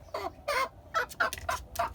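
Two chickens cluck close by in a house, giving about six short, throaty bursts in an uneven rhythm against a quiet background.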